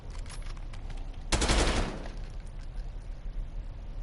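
Gunfire from Call of Duty Black Ops 6 multiplayer, a faint steady rattle of shots that swells into one loud, dense burst near the middle before settling back to a low crackle.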